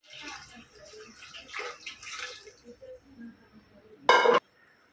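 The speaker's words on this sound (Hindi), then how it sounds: "अभी हम इसमें मटन उबाले ना, उसका पानी डालेंगे चावल पकाने के लिए" Mutton cooking water is poured into a pot of rice in a brief, loud splashing gush near the end, after soft kitchen clinks and rustling.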